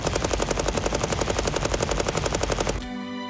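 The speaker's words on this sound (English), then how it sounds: "Firing at its maximum capacity, the bullets leave the barrel at a rate of 9 per second." Machine gun secured on a tabletop tripod fires a rapid, steady stream of rounds, loud and close, about nine shots per second, then stops abruptly leaving a ringing tail.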